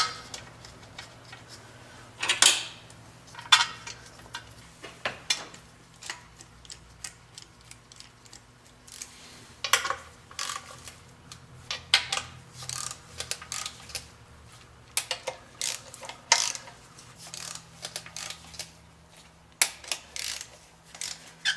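Ratchet clicking while tightening fasteners on a 1999 Acura TL V6 engine, irregular bursts of sharp ticks and metallic clacks close up, spread over about twenty seconds with short pauses between them.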